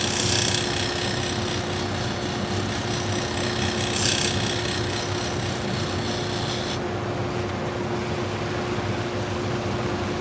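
Pet grooming shears being sharpened on a machine to remove the beveled edge, giving a steady, continuous rasping grind with a constant motor hum that runs close and loud throughout, with no talk.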